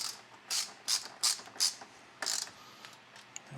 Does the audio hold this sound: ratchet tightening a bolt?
yes